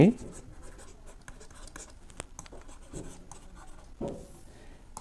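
Pen scratches steadily as a math solution is worked out on paper, with soft irregular strokes and taps throughout and a low voice underneath.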